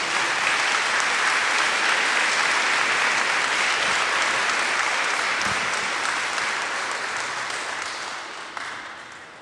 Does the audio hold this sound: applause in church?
yes